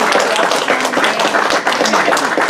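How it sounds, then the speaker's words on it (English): A crowd at a comics panel gives a round of applause, a loud, dense, continuous clatter of many hands clapping close by. "I'm going to give them a round of applause"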